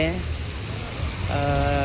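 Heavy first-monsoon rain pours steadily in Dundas, Gujarat, a dense close hiss of rainfall with people talking over it throughout.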